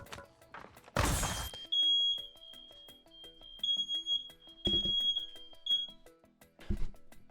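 A household smoke alarm gives a string of piercing high beeps, repeated in a quick run, while loud bangs, clatter and game sounds break in around it.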